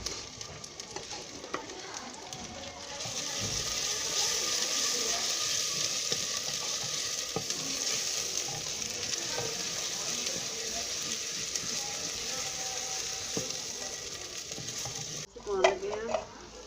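Potatoes and peas being stir-fried in a pot with ginger and garlic, a steady close sizzle with spoon scraping, ending in a louder clatter.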